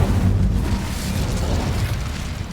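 An Incendio fire spell in a Hogwarts video game bursts into a loud, deep, rumbling whoosh of flame that roars continuously with no speech.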